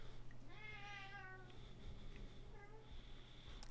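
A house cat meows twice at close range, a long drawn-out cry followed by a shorter second meow, over a steady low electrical hum.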